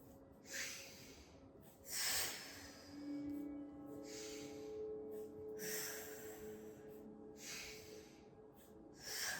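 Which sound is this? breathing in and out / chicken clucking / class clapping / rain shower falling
breathing in and out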